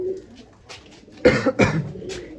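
Pigeons coo in short, soft bursts nearby, a few low calls in quick succession with no voices.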